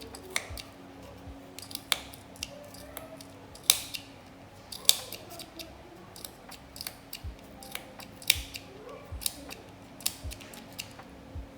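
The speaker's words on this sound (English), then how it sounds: "Cut it open till the end." Scissors snip through yarn wound on a plastic pompom maker in a long run of small crisp cuts at an uneven pace, close and fairly quiet, with no talking.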